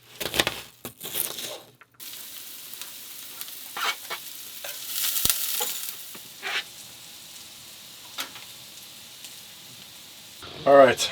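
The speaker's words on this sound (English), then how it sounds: "I added in the mushrooms, cooked them up a bit, some spices." Mushrooms and spices fry and get stirred in a pan in a camper van, with soft sizzling, scraping and clinks of the utensil against the pan, close and fairly quiet, a short louder clatter near the end.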